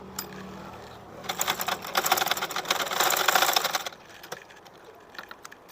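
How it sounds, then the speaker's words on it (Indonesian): A sewing machine stitches a garment hem while a shirt is being shortened at the waist. It gives a fast, steady mechanical rattle that builds in the middle and then fades to light clicks. "Kita jahit aja dari sini, dari ujung sini."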